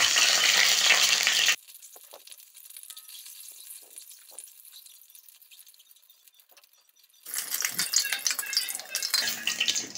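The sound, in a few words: eggs frying in a kadai (wok)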